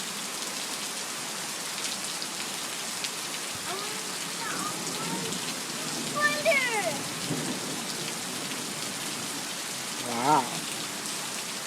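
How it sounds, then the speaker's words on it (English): Heavy rain pours steadily onto surfaces outdoors, a loud, dense, continuous hiss throughout, with a child's and an adult's voices speaking briefly over it. "It's a lot of rain."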